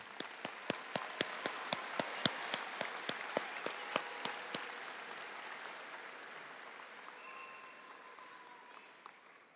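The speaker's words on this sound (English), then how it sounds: "a round of applause for all of our students who are graduating with honors" A high school graduation audience applauds honors graduates, with sharp, close single claps standing out in a regular rhythm over softer crowd clapping that gradually thins and tails off.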